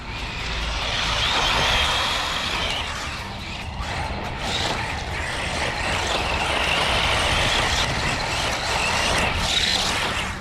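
Tamiya Super Sabre 4WD RC buggy with a 15-tooth pinion and 2S battery whining around a track, a loud continuous high electric motor and drivetrain buzz rising and falling as it passes, no voices.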